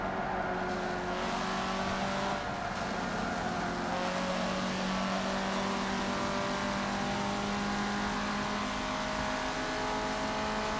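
Sport compact car engine in Forza Motorsport 7, holding a steady high drone with tonal harmonics under driving, moderately quiet and continuous throughout.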